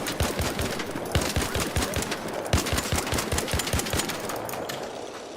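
Automatic gunfire in the video game Arc Raiders: rapid bursts of sharp shots in quick rhythmic strings, loud and close, with short gaps between volleys.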